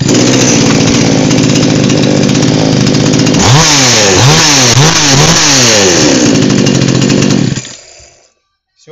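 A petrol chainsaw with a repaired magneto roars loudly and continuously, revving up and down several times in rhythmic surges before cutting out and falling silent.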